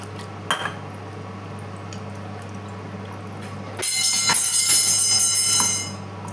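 Water splashes and rattles as a masala container is rinsed out into a pan of Chettinad-style mutton gravy, a loud steady wash after a quieter stretch of kitchen hum and clinks.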